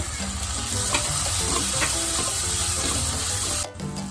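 Tomatoes go into a hot frying pan already holding translucent onions and ginger-garlic paste, with a loud, steady sizzle and frying crackle throughout and faint stirring, dropping briefly near the end.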